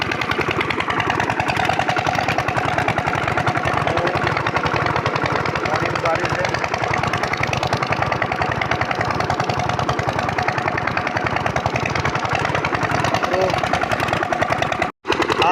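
A water pump engine beside a canal chugs loudly and steadily nearby with a fast, even mechanical pulse throughout, briefly cutting out near the end.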